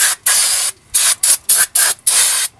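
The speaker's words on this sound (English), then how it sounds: "move all the brakes out of the way, spray it down a little bit" Loud aerosol brake cleaner sprayed on a Hyundai's front brakes hisses in a series of short bursts, one longer blast then several quick sprays close up.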